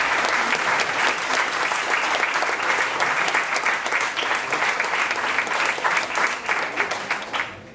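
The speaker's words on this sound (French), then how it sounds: "j'aimerais qu'on fasse un tonnerre d'applaudissements à tous les étudiants qui ont présenté ça" A conference audience gives sustained, full applause for presenting students, a thick steady clatter of many hands that holds evenly for several seconds before tapering at the end.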